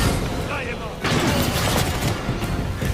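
Rapid gunfire and explosive crashes in a video game, a dense, loud barrage that thickens after the first second and keeps going with sharp bursts.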